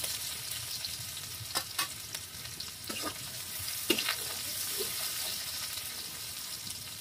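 Onions frying in a pan, giving a continuous sizzle with a few sharp clinks and scrapes of stirring, close by, with no talk over it.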